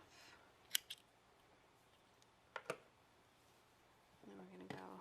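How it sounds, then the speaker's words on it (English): Scissors snip through a yarn tail while joining crocheted squares, giving two quick, close pairs of crisp clicks against a quiet room, with a faint low murmur near the end. "Snip that off."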